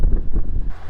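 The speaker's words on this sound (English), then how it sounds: "It is cold and windy, so much so that the doors keep blowing shut on the vehicle." Strong wind buffets a microphone with a loud, continuous low rumble that swells and dips without a break.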